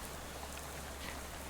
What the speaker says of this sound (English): lets the rain splash in his face for a while